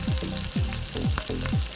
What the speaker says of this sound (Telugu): వాటిని ఆయిల్లో డీప్ ఫ్రై చేసుకోవాలి.